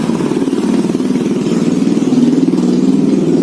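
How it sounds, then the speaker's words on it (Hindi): A motorbike engine passes close by in a steady mid-pitched drone with a slight swell toward the end, no speech over it. "बाइक जा रही थी इसलिए मैं रुक गया"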